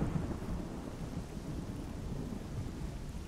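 A thunderstorm in the game Stalker Anomaly, with a constant heavy rain hiss over a deep, sustained thunder rumble, loud and unbroken, with no speech.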